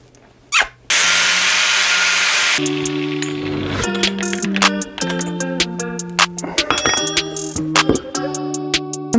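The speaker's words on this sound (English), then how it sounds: "I'm cutting down the bars to 730." A power tool cuts down handlebars on a new dirt jump bike: a loud, close burst of harsh grinding cuts off sharply, followed by ringing metallic tones and clattering knocks.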